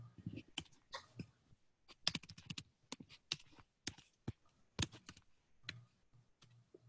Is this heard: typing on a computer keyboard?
yes